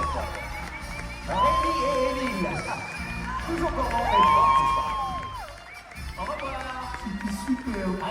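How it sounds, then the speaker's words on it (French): A crowd cheers and whoops at a Disney Starlight Night for annual pass holders at Disneyland Paris, loud and continuous, with voices and amplified sound mixed through it. "je vous demande de les applaudir une toute dernière fois"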